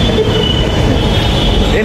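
Metro train in Bangalore running loudly and close, with a continuous low rumble of wheels on rails and a high squealing tone above it, heard alone without speech.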